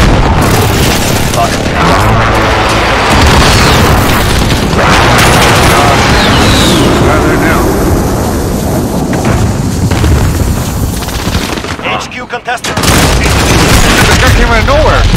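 Precision airstrike explosions in the Call of Duty Modern Warfare video game, loud continuous rumbling blasts mixed with bursts of gunfire for several seconds, a brief drop near the end, then the barrage resumes with voices underneath.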